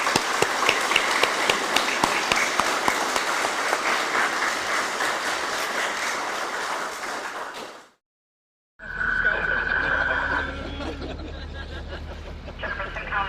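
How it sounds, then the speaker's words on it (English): A crowd claps steadily for a lieutenant at a retirement ceremony, dense applause lasting several seconds before cutting to silence, then a radio dispatch voice and tones follow. "So a round of applause and some support for Lieutenant Witte in the future here."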